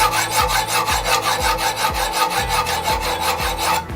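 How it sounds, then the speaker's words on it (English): Hard steel knife blade drawn across 200 grit stones on a Wicked Edge GO sharpener, a steady rasping scrape repeating in even strokes about twice a second, close and loud with no talk. "now I'll just slide these same 200 grit stones on, and I'll just start to work here at the front of the knife"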